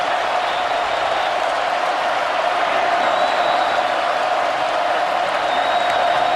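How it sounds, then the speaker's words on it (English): Alabama fans at the 2018 Iron Bowl college football game against Auburn applaud in a big stadium, a dense, steady wash of clapping and crowd noise that holds evenly throughout. "he gets a big round of applause from the Alabama fans, too"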